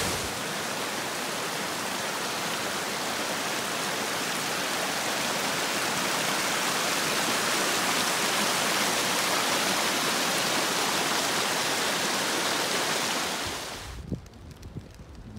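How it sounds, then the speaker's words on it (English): A swollen waterfall on the Appalachian Trail pours down in a heavy, steady roar of rushing water that fills the air for about fourteen seconds, then cuts off abruptly. "When I was here last, this waterfall was barely a trickle,"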